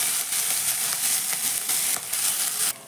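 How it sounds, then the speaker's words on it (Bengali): Grated ginger frying with cumin seeds in hot oil: a steady, close hiss of sizzling that fills the whole stretch, with faint stirring pulses and a slight drop near the end. "জিরের সঙ্গে আদাটা হালকা করে একটু ভেজে নেব।"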